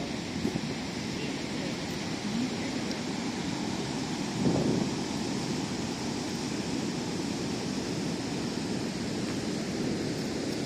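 Rough sea waves at San Lorenzo beach in Gijón, Asturias make a continuous broad roar and wash, steady and moderately loud, mixed with wind noise on the microphone.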